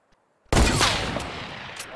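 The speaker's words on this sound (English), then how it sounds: "Oh, that's a sniper." A single sharp sniper rifle shot in the Fortnite video game cracks suddenly after near silence, then rings out in a long, loud, broadband echo that slowly fades.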